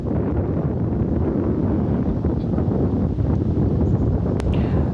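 Cold wind blows steadily across the microphone, a continuous low rumbling buffet with no voices.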